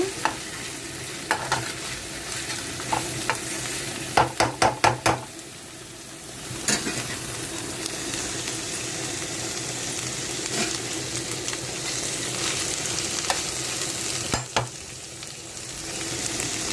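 Mint leaves frying and being stirred in a pot of garlic paste masala for fish biryani, giving a steady sizzle throughout, with a few sharp metal scrapes of the spoon against the pot in the first seconds.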